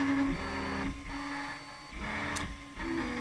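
A 3D printer building a worm gear part for a timer-driven chicken feeder whirs quietly up close, its stepper motors whining in short tonal bursts that shift pitch between moves, without any talking.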